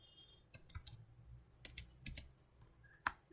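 Someone types code on a computer keyboard in short, clustered bursts of faint keystroke clicks separated by brief pauses, quiet and close.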